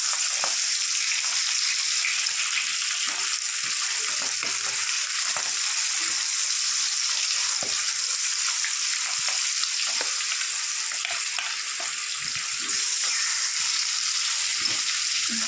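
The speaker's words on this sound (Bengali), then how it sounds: "চারটে চারটা করে ভাজি" Fish fries in oil with a loud, constant sizzling hiss and faint crackles, steady throughout and close up, with no voices.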